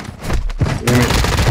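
An RGL grenade launcher fires in a Call of Duty DMZ match in Al Mazrah, with a sharp loud blast that rolls into dense crackling explosions and rumbling booms, loud and close.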